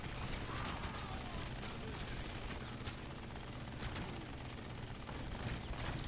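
A minigun fires a continuous, dense rattling stream in the Narco Terror video game, loud and unbroken with explosions and clatter mixed in, and a voice talks over it.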